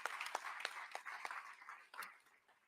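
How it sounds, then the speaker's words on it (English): A political event audience applauds a senator, a faint, distant wash of clapping with scattered sharper claps, fading slightly toward the end. "Let's give the senator another great round of applause"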